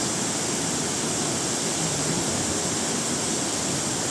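Tinuy-an Falls waterfall produces a steady, dense roar of falling water, loud and unbroken throughout, with no voices over it.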